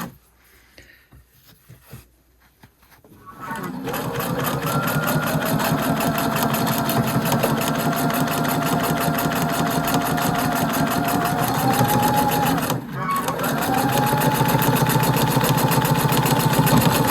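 A Pfaff sewing machine chain-pieces quilt blocks, starting after a few quiet seconds of handling, then running in a steady, close, continuous whir with one brief pause before resuming.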